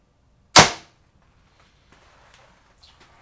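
PSE Altera XS compound bow loosing an arrow: one sharp, close thwack with a quick decay, followed by near silence and a few faint distant taps.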